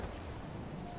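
A cannon broadside from a sailing warship in the Naval Action game: a dense, loud, sustained booming roar that fills the whole short moment.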